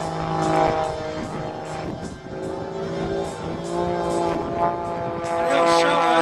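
An aerobatic propeller airplane flies slow, graceful maneuvers at about 100 knots during an airshow, giving a steady droning engine hum at moderate distance that swells and fades slightly, with a voice talking over it.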